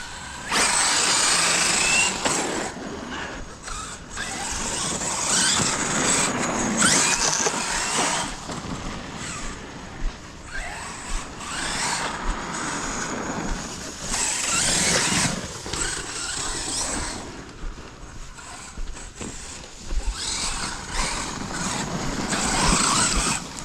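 A small electric motor of a Hobao Hyper MTX radio-controlled car whines steadily at high pitch for the whole stretch, rising and falling with bursts of revving, loud and close, with no voices.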